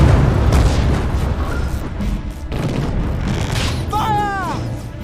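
A torpedo is launched during a battle in an animated film, a heavy booming rush with rumbling low end and a bright whistling sweep near the end, set amid loud battle noise and shouted commands.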